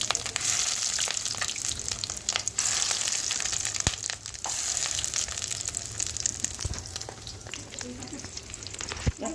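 Fish roe mixed with papaya and potato fries in hot oil, giving a steady, dense sizzle with occasional crackles and faint scraping throughout, close and loud, with no talking.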